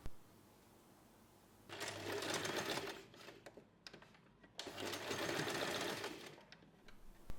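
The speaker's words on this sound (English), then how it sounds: "Sew it in place." Sewing machine stitching a fabric tab onto a small snap-wallet keychain pouch, running in two steady bursts of rapid mechanical whirring separated by a brief pause, close and clear with no talking.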